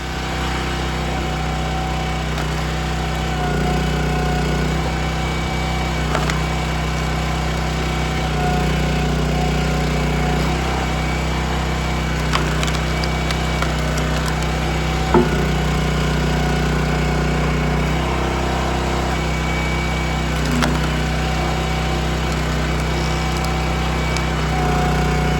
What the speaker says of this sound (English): gonna give Gramp's splitter a try and see what happens